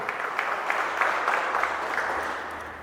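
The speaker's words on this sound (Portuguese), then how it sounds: "Vamos aplaudir a palavra de Deus, meus irmãos." A church congregation breaks into sustained applause, and the steady, dense clapping fills the room for several seconds at an even level.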